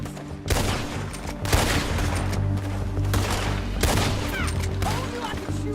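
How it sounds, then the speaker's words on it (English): Gunfire in the Western video game Red Dead Redemption 2: a sharp volley of loud, close shots at irregular intervals over a rumbling background, with faint voices underneath. "Told you I could shoot a gun."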